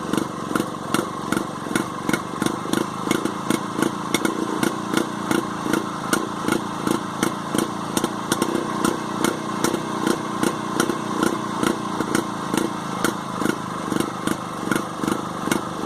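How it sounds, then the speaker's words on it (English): A small engine of a Penguin runs steadily nearby with a rapid, regular chugging pulse, loud and unbroken throughout, in freezing conditions. "trying to speak over the sound of the engine running"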